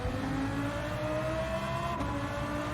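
Gr.3 race car in a racing video game at the Barcelona-GP circuit, engine note rising steadily as it powers out of a corner, loud and continuous with a faint tire edge and no talk.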